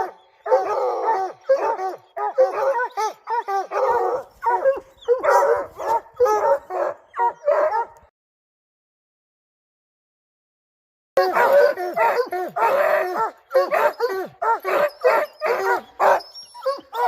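Several dogs barking rapidly and repeatedly, loud and close, with a few seconds of silence midway before the barking resumes.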